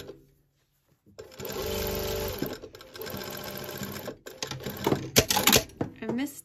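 A sewing machine stitches the cuff of pyjama pants through two cuff layers and the pant-leg hem, whirring steadily in close bursts with short pauses, while a voice talks over parts of it.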